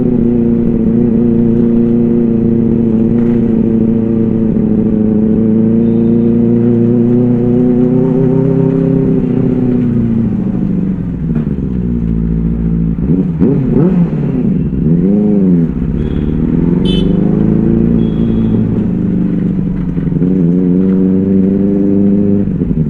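A Benelli 600i motorcycle fitted with an Ixill exhaust idles and revs loudly up close, its throbbing engine tone rising and falling through several throttle blips over a sustained low rumble.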